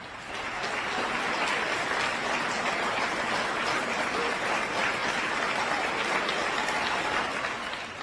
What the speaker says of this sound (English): saluted by his fellow police officers and a cheering crowd